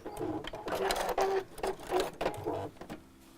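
Sewing machine stitches through layered fabric of a small box bag in quick bursts of rapid needle chatter, stopping and starting several times, fairly close and moderately loud.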